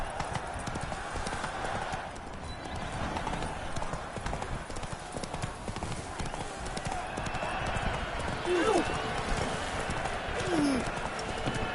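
Hooves of a galloping horse in The Witcher 3 on PS4 pound in a continuous rapid clip-clop rhythm, steady and fairly close. A couple of brief whinnies and faint voices rise over the hoofbeats near the end.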